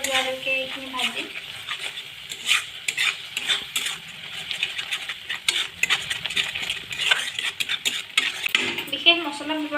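A spoon stirs drumstick curry made with white mustard paste in a pan over a low flame, scraping steadily and rhythmically against the metal over a soft frying sizzle. A voice is heard briefly at the start and the end.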